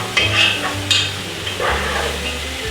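A pot of hearty vegetable stew is stirred with a utensil, bringing a couple of close scraping strokes and soft clinks over a low steady simmer, no talking.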